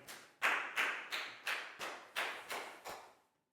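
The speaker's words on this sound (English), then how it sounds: "big round of applause for Lakau" A class of Year 4 pupils clapping in a lesson, about eight sharp, evenly spaced claps in unison like a rhythmic group clap, close and fairly loud, ending in a brief silence.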